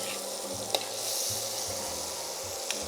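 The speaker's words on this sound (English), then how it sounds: "So just going to sweat that down for about 5 minutes until the onions sort of give away, become a little bit translucent." Onions with a bay leaf sweating in a pot, giving a steady close sizzle throughout with a couple of brief clinks of stirring.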